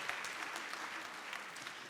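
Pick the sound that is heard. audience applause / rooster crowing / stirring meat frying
audience applause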